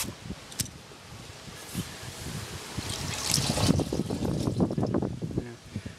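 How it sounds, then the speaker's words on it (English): Running water from a hose splashes and gurgles into an orchard sprayer tank, growing fuller and louder midway, with some rustling and handling noises close by. "I'll get the hose, put a little bit of water in there"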